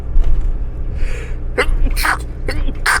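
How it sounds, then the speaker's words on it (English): A person sneezes loudly several times in a row, sharp explosive bursts up close, over a low rumbling motorhome engine. "Oh, I'm gonna sneeze."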